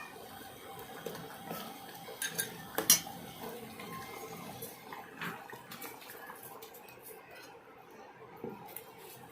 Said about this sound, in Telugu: ఈ గోంగూరను దీంట్లో వేస్తే బాగా మిక్స్ చేస్తాం.